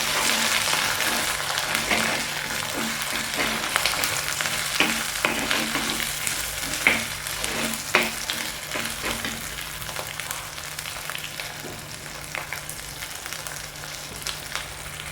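Ginger, shallots and garlic sizzle steadily in hot oil for an Onam ginger curry, with a dense continuous crackle and repeated scraping stirs throughout, no voices.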